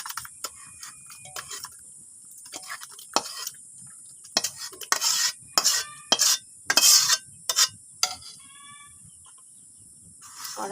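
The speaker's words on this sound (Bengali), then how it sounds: "প্রেসার কুকারে আমি আজকে গোশটা ঢেলে নেব।" Cooked meat curry is scraped and poured from a pan into a pressure cooker in a home kitchen. Irregular clattering scrapes and clicks of metal come in short bursts over a quiet background, with no voices.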